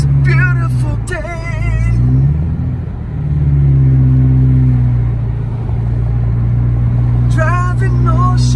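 A car drives along the North Shore on a beautiful day near Big Bear, its engine holding a steady mid-pitched drone with small rises, while a voice talks over it near the start and end.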